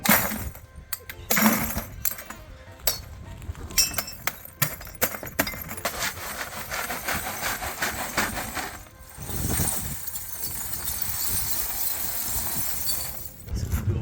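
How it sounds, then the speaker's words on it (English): Brand-new breakable glass is smashed and crunched for walk-on-glass training: sharp, close shattering crashes and clinks come in a rapid burst at first, then settle into steady gritty crunching of broken pieces. "This glass that we broke ourselves, so we know it's brand new, breakable, hurtful glass."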